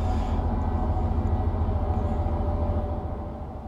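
Steady low train rumble inside a tunnel in the railway simulator Train Life, a dense continuous drone that stays loud and even throughout, easing slightly toward the end.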